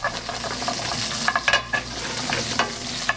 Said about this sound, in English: I'm going to go and add some clams to that pan